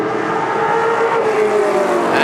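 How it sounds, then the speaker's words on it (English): Two race cars, a Ferrari and an American GT car, roar side by side uphill across the finish line at a Sonoma vintage race, loud dense engine howl sustained throughout with a hint of tire noise. "the Ferrari as they cross the line together, side-by-side, up the hill"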